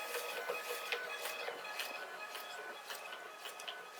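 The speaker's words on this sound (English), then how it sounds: "So that is all 300 labels printed." A small label printer runs a batch of labels, giving a steady mechanical whirr with repeated rapid feed bursts and clicks, moderately close and with no talking.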